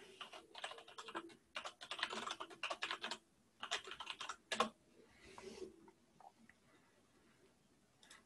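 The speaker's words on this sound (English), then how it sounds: "guess we're just going to have to type it" Fingers type on a computer keyboard in short bursts of quick clicking. Brief pauses separate the bursts, and the sound thins to sparse single key taps toward the end, all close and fairly quiet with no talking.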